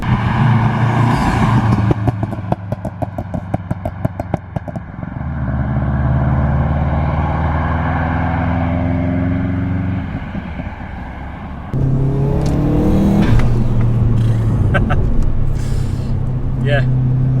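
Subaru Impreza P1 engine on overrun while driving, a steady low drone and rumble with a shift partway through, carrying on under people talking inside the car.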